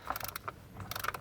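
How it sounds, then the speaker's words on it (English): A torque wrench ratchet tightens a bolt on the intake manifold of a MK7 Volkswagen GTI, giving a quick run of close, crisp clicks with a short pause in the middle. "I already have my torque wrench"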